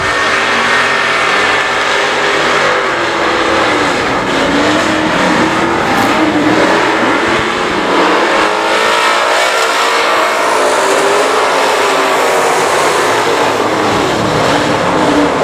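Race cars roar around I-37 Speedway on the opening lap, a dense continuous engine howl with rising and falling revs as the pack sweeps past, loud and close.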